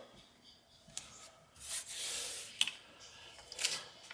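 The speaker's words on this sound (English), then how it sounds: "Tear the excess tape off because you don't need all that." Excess tape is torn off a roll while hanging something on a wall, a short series of close rough ripping and rubbing bursts with a longer tear in the middle and a couple of sharp snaps.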